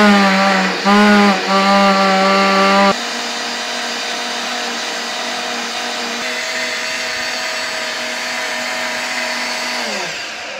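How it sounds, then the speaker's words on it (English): A blender whirring through ginger, onion and garlic for soup, a loud, steady motor whine that stutters in pulses at first, then runs continuously and winds down at the end. "Our ginger, onion, garlic. We are going to blend it."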